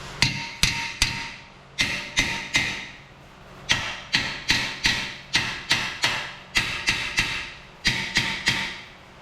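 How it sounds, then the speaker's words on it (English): Small hammer striking a stuck Ford F150 brake rotor on its hub, delivered in quick bursts of three or four sharp metallic blows separated by short pauses, repeated several times close up. "if you hit it in between the studs with a hammer"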